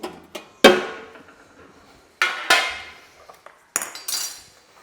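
Plates and dishes clinking as a plate is readied in a kitchen, several sharp ringing knocks spaced a second or two apart, each trailing off, close and fairly loud with quiet gaps between.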